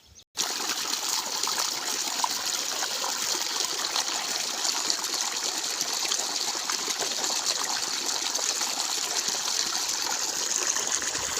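A steady, loud rush of water gushes from a well pump motor into a brinjal field, a continuous splashing flow that starts abruptly and runs unbroken without talk.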